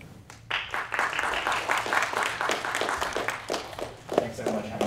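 Audience applause for the host law firm at a South Asian professional event, a dense run of claps building after a brief lull and continuing steadily near the microphone with some voices mixed in.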